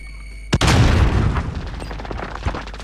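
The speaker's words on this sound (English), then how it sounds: "Grenade out!" A grenade goes off in the video game Warzone: one sharp, loud blast with a long rumbling tail and scattered pops and crackle fading out over a couple of seconds.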